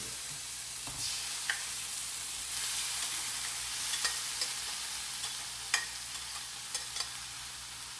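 Mung beans tipped into a hot pan for ginisang monggo with dilis and stirred, giving a steady sizzle broken by a few sharp utensil scrapes and clicks, close and moderately loud with no talk.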